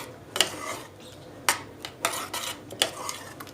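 A spoon stirring bulgur in a cooking pot, scattered clinks and scrapes of metal against the pot at an irregular pace, near and moderately loud, with no speech.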